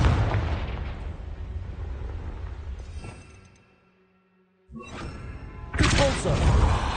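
Confringo spell blasts in Hogwarts Legacy burst out as loud, booming explosions with shattering debris, fading to near silence before a second burst and then a heavier, louder blast at the end.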